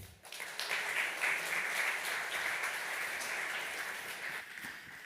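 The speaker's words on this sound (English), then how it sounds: "Please give a warm round of applause." A steady round of applause fills a conference hall at a security talk on core router vulnerabilities, dense and sustained, with no talk over it.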